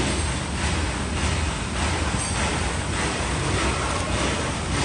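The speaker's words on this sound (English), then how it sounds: "only the machine working" A lid cover cap plastic film packing machine runs steadily, giving a continuous, fairly loud broadband mechanical whir with faint periodic swells and no talk.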